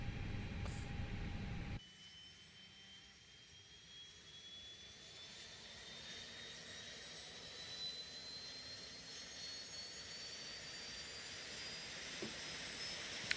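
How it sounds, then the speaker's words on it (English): Airbus A320 auxiliary power unit spinning up in a flight simulator, a thin rising whine that climbs steadily after a sudden cut from louder cockpit noise, faint and continuous with no voices. "Listen to that wonderful APU spin up"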